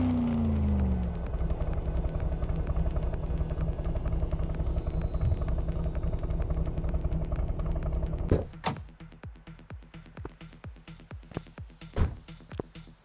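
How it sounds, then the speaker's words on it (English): In the video game Car Mechanic Simulator 2026, a revving car engine drones loudly and steadily, then cuts out, leaving a series of sharp clicks and taps. "Weird ass engine sound for this car."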